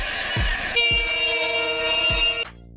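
A train rumbles past up close while its horn sounds a loud, steady multi-tone blast that cuts off abruptly near the end, with heavy rhythmic wheel thumps underneath.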